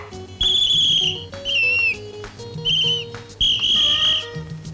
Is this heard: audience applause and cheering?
no